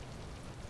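A rain spell effect from the Wizard101 video game: a brief, soft wash of pattering rainfall, steady and faint throughout.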